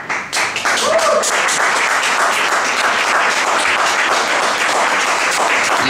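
A crowd at a live free jazz festival performance claps loudly and continuously, a dense wash of applause that starts abruptly and keeps going with little change, with some voices mixed in.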